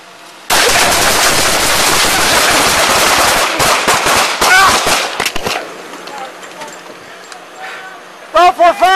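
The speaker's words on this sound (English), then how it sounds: "shots fired, I'm hit!" Automatic weapon fire is aimed at police during a traffic stop, a loud close sustained burst of rapid shots followed by scattered shots, then shouting voices.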